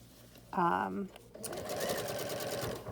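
A sewing machine stitches fabric for a face mask, its close, steady mechanical whir running continuously after a brief voice at the start.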